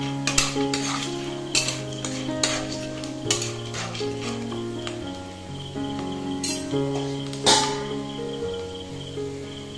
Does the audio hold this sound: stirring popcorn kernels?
yes